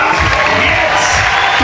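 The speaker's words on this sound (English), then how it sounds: "The crowd are going crazy." A crowd at a European bouldering championship semi-final in Innsbruck roars and cheers loudly, a dense continuous wall of voices close and unbroken.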